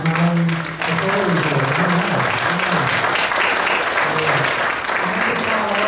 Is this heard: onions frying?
no